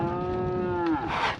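A single loud, close cow moo from a herd checked at a water trough, drawn out for over a second with a falling pitch and a breathy rise at the end, with no talk.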